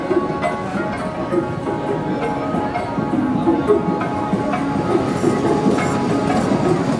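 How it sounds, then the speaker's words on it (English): The historic Kalka–Shimla toy train rolls slowly along its mountain rails, a loud, steady rumble with repeated wheel clicks and clatter heard from aboard, with some talk faintly underneath. "Kalka to Shimla takes us 6 hours aboard the historic Shimla toy train."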